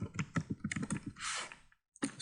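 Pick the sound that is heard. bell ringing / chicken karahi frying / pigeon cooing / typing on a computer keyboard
typing on a computer keyboard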